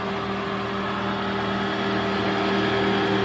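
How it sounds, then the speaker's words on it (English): Running 2019 Ford Fusion Hybrid with its cooling fan, air compressor and gasoline engine all going: a steady mid-pitched hum and drone with a faint whir, continuous and unchanging, no talk. "you guys can hear the cooling fan running in there, air compressor now, the gasoline engine helping"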